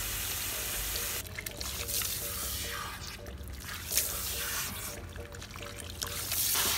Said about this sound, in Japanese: まあしっかりそのお湯で流すって感じですね